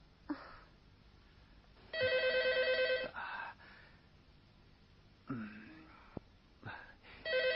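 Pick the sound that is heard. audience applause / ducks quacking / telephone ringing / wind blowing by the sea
telephone ringing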